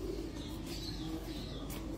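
Domestic pigeons coo softly and steadily, low and continuous, on a rooftop loft in Dubai among a fancier's flock, with no talk over it.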